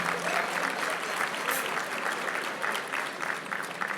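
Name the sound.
audience applause at a dinner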